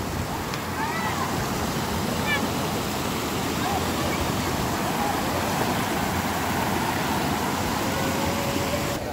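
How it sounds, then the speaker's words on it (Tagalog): Clear river water in the Philippines rushes steadily downstream, a continuous broadband wash filling the whole stretch, with faint voices now and then beneath the flow. "Pababa ang kanang ilog."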